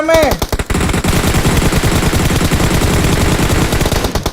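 Rapid automatic gunfire in PUBG Mobile, dense sustained bursts filling nearly the whole stretch, loud and close, with a brief voice near the start.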